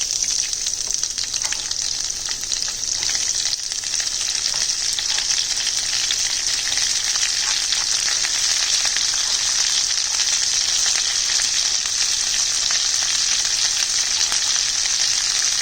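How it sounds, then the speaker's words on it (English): Onions sizzle steadily in hot oil with curry leaves in a pan for vada curry, a dense continuous frying hiss at even loudness with faint stirring, no voices. "So we're going to fry this onion till it's about translucent"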